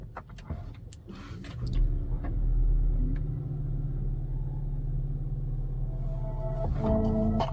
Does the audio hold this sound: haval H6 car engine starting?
yes